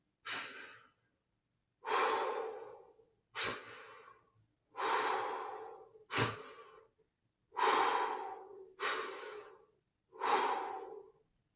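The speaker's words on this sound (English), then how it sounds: "And then there's diaphragmatic breathing. So that's breathing from the belly" A slow series of eight deep diaphragmatic belly breaths for saxophone playing, each a soft broadband whoosh of inhale or exhale separated by short pauses, close and with no talking.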